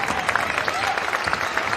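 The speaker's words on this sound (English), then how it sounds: "North Quincy parents are getting up and cheering on the girls as the clock runs down here" Parents clap and cheer steadily through the closing seconds of a North Quincy versus Medfield high school girls basketball game, a dense wash of applause from the crowd.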